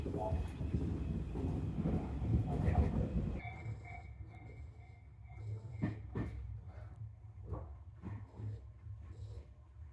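Tobu Urban Park Line train running on rails, a steady low rumble and rattle of the carriage interior with rhythmic wheel clicks, loud at first and then settling to a quieter hum as an onboard announcement plays over it.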